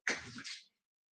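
A single short sneeze in a courtroom, close and fairly quiet, a sharp burst followed by a brief tail, then silence.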